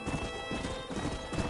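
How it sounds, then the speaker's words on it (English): Horse hooves clip-clop in a quick steady rhythm in the video game Red Dead Redemption 2, fairly faint, with a synthetic game-like quality and no talking. "Giddy up!"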